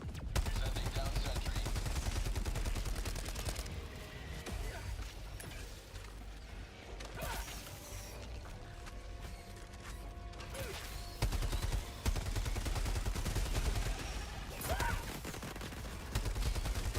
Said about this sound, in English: I'll use the Gatling.